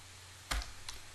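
A few quiet keystrokes on a computer keyboard while entering a terminal command, two brief clicks over a faint steady hum.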